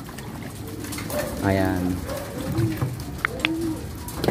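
A flock of pigeons cooing nearby in rural Mulanay, Quezon, with soft repeated coos rising over light background noise and someone briefly speaking.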